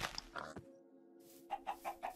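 Chickens in the video game Minecraft clucking, a few short soft clucks in a quick run near the end, faint and somewhat muffled over low background game sound, with no talking.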